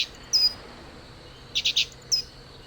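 Cheep Cheep, a small bird in the video game The Book of Unwritten Tales, gives a short high chirp, then a quick run of three tweets and one more, clear over a faint ambient hum.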